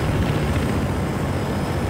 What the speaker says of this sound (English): I'm gonna end up crashing into that helicopter